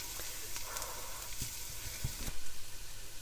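Vegetables for cucumber relish fry in a pan over medium-high heat, giving a soft, steady sizzle with occasional faint pops and stirring scrapes, close and quiet.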